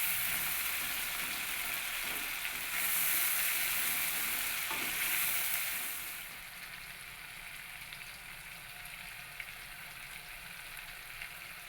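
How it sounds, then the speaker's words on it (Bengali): Chopped ginger and small tomato pieces fry in a pan with a steady, bright sizzle and occasional stirring, the hiss fading to a quieter simmer partway through. "এই আদা আর টমেটোটাকে বেশ কিছুক্ষণ ভেজে নেব যতক্ষণ এর কাঁচা গন্ধটা চলে যাচ্ছে"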